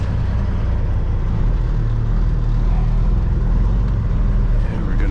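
Kenworth W900 semi truck with an 18-speed transmission pulling out of a driveway, a steady low diesel engine rumble heard close from inside the cab, loud and continuous throughout.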